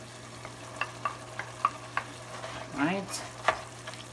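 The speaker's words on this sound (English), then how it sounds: "And then just stir it up again." Goat stew with liver spread being stirred in a pan. The stew sizzles softly while a spoon taps and scrapes the pan in quick strokes, and a voice briefly speaks.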